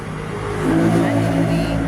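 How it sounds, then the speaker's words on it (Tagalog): A noisy motorcycle passes by outdoors near a small garden, its engine swelling loudly to a peak mid-clip, with a voice talking underneath. "Ay kasaba sa motor."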